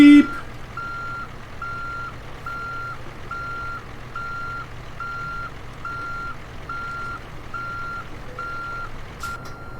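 Rhythmic reversing beeps from a truck in American Truck Simulator, steady and evenly spaced, repeating over a low engine idle with no talk.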